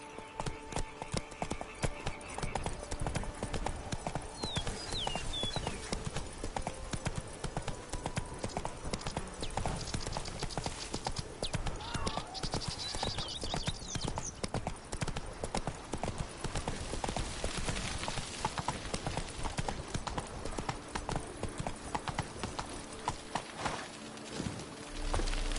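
Hooves of a horse galloping in The Witcher video game, a steady rapid clip-clop that runs the whole time at close range, with background game sounds layered under it.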